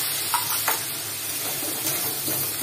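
Chicken sautéing in a hot pan with Kashmiri chilli, cumin and coriander powder over a high flame, giving a steady soft sizzle with a few light stirring scrapes, faint and continuous with no talk.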